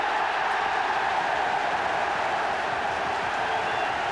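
Football fans in a stadium cheer in a steady, roaring crowd wash. The noise holds level and loud throughout with no break.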